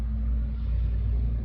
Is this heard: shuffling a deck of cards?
no